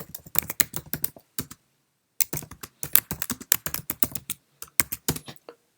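Someone types in quick bursts on a desktop computer keyboard, crisp clicking keystrokes with short pauses between runs, close and clear with no talking.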